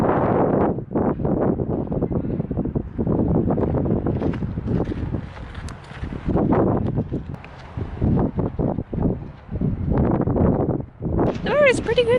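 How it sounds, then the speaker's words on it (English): Gusty wind buffets the microphone on a Brighton beach by the bathing boxes, loud and continuous, rumbling in heavy waves across the whole stretch. "It's a little bit windy, but it's quite warm, so the wind's nice"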